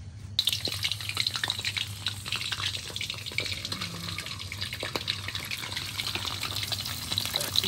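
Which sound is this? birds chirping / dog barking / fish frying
fish frying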